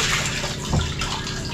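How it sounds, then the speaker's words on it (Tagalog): Strong water pours steadily from a tap, a continuous rushing flow with a brief louder splash near the middle, close and fairly loud. "Lakas ng tubig."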